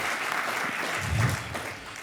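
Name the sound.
applause from the audience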